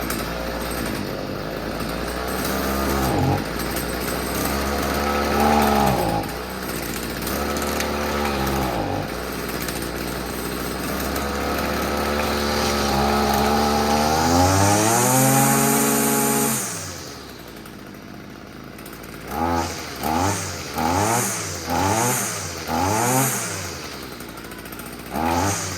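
An old Stihl FS55 string trimmer's small two-stroke engine runs after a tune-up and carburetor work, loud and close, revving up and down in long swells, then dropping toward idle and blipping the throttle in several short bursts.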